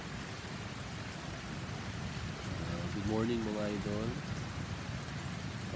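Rain patters steadily on a tent at a campsite in Cabangan, Zambales, in the early morning, with someone briefly talking over the soft, constant hiss of the drops.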